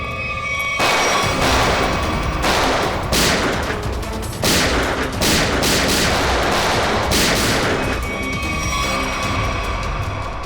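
Sustained gunfire in a TV crime drama shootout, with loud bursts of overlapping shots and heavy rapid fire rolling on for several seconds before easing near the end.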